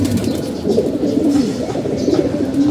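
Silver pigeons coo loudly and close by, with repeated throaty rolling calls from several birds overlapping in a continuous chorus and no talking.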